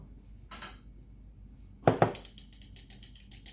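An egg is cracked and whisked into peanut butter cookie dough in a mixing bowl, a couple of sharp knocks followed by a steady run of close, rhythmic clinks of utensil against bowl.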